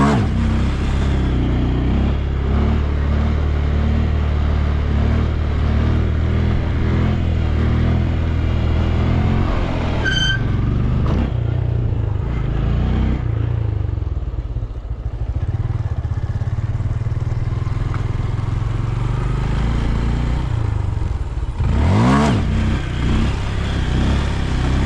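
Small-displacement Honda Grom motorcycle engine revving loud and close during a wheelie, its throttle rising and falling with a sharp burst of revs near the end.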